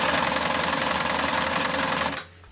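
Domestic sewing machine running a wide zigzag stitch at length 2, a loud, rapid, even mechanical chatter for about two seconds before stopping abruptly.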